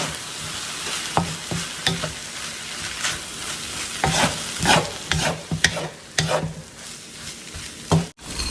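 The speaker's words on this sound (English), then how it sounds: "Go ahead and make sure you're constantly stirring it." Fried rice with soy sauce is stirred steadily in a hot pan, a continuous close sizzle with repeated scraping strokes of the utensil and no talking.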